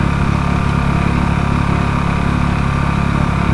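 A Suzuki 2.5 horsepower outboard motor runs on a boat on a river, giving a loud, steady, close buzzing drone with an even pulse throughout and no talking.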